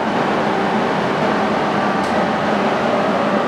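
A Geminis GE 650 heavy-pattern 27 by 128 inch lathe runs its spindle at 260 RPM, giving a steady, loud, broadband mechanical whir with a faint hum beneath it and no speech.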